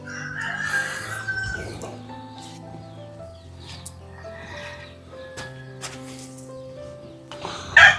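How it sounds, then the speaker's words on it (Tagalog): Native and Texas chickens kept at an old house cluck and crow, with a rooster's crow and scattered clucks over a soft background, ending in a louder burst up close. "Manok na native at Texas na manok."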